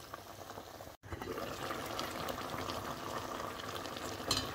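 A covered pot of sauce with dried mushrooms and shrimp bubbles at a steady boil, a soft continuous churning with a brief dropout near the start and a small clink toward the end.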